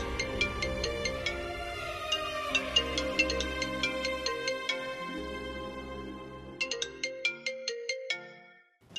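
A mobile phone ringtone plays alone, a bright repeating melodic tune of clear chiming notes that rings on for several seconds, pauses briefly, resumes, then cuts off abruptly.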